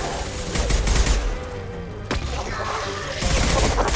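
In Mass Effect 2, a heavy weapon fires, producing loud bursts of booming gunfire with dense rumbling low end and a brief lull before another burst.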